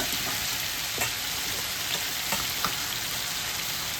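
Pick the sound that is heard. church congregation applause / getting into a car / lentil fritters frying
lentil fritters frying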